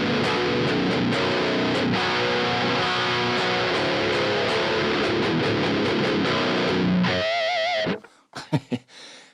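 Heavy, dense distorted rhythm guitar through a Peavey Vitriol amp model on a Line 6 Helix with an impulse response, chugging steadily and loudly for about seven seconds before cutting off into a few short, scattered picked notes.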